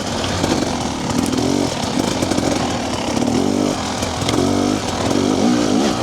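A TBI motorcycle engine pulls hard in fourth gear, a loud, dense, close exhaust roar with rising pitch as it accelerates, continuous and without talk.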